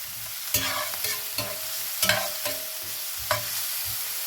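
Chopped white onions cook over fairly high heat in a pan, giving a soft continuous sizzle with several clear spoon taps and scrapes at irregular intervals; no one talks.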